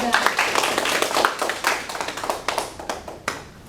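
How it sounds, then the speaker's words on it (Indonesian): Students in a classroom clap for a classmate representing group 3 after a presentation, a brief burst of close, uneven handclaps with some voices mixed in, thinning out toward the end. "Oke, tepuk tangan untuk Fikra dari perwakilan kelompok 3."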